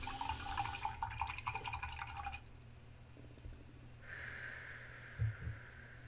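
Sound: rinsing a watercolor paintbrush in water

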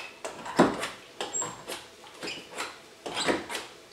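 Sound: squeaky old-fashioned hand chopper chopping

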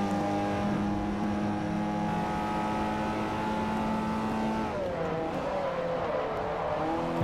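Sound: Mazda 4-cylinder race car engine in Forza Motorsport 4 video game

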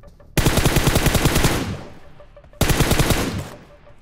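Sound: gunfire from a video game

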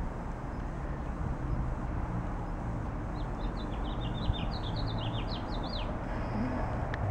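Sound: birds singing

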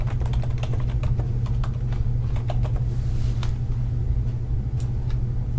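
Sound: typing on computer keyboard

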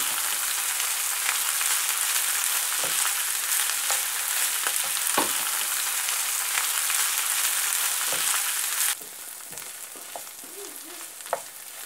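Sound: chopped onions and garlic frying in a pan

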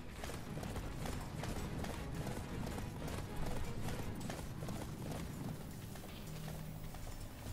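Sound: horse galloping in a video game

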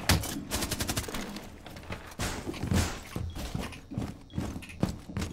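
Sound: player shooting in video game Rainbow Six Siege

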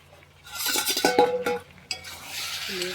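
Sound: lid of a pot of cooking meat being opened

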